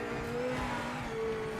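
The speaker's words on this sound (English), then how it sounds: "Love the sound of this car." Race car engine from the Project Motor Racing game, a steady loud tonal drone holding a constant pitch throughout, with faint tyre noise underneath and no talk.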